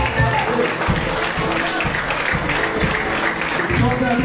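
A church congregation claps in praise to God during a sermon service, dense steady clapping with some voices mixed in underneath.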